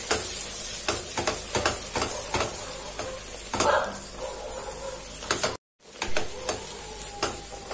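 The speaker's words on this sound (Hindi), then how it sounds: "हमने अपने मसालों को 1 मिनट के लिए अच्छे से भून लिया है।" Spices with red chilli powder and crushed kasuri methi sizzle in a pan while being stirred for about a minute, a steady close frying hiss broken by repeated scraping strokes of the spoon, with a brief silent gap partway through.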